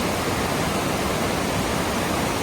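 The Great Falls waterfall roars steadily, a broad, constant rush of heavy water pouring down, loud and close with no breaks.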